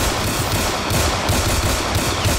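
Rapid, dense gunfire in a Roblox New York hood roleplay game, a loud continuous rattle of shots filling the whole short burst with no talking.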